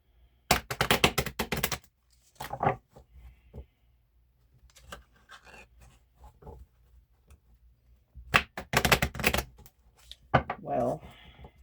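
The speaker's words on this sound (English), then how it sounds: "let me get a good shuffle" A deck of tarot cards is shuffled by hand in two quick bursts of riffling and snapping, close and crisp, with quieter handling of the cards and soft talk in the gaps between.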